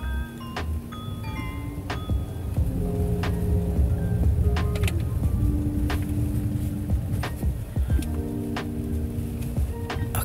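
Cabin of a Hyundai Creta fitted with sound-deadening, speeding over an uneven paving-block road: a steady low rumble of road and engine noise fills the whole stretch, with occasional faint clicks and tonal hums riding on top.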